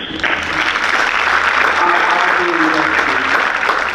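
An audience at a parent appreciation evening breaks into sustained applause, full and even clapping from many people that starts abruptly and carries on, with some voices mixed in.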